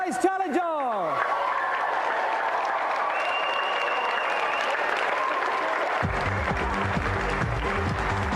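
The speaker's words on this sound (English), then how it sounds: "give a round of applause for tonight's challenger." Loud, sustained applause from a TV game show studio audience, steady clapping filling the room for several seconds.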